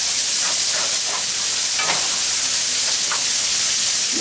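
Onion frying for a shrimp and lobster paella, a steady loud sizzle and hiss from the pan running throughout with small spits and pops, no voices.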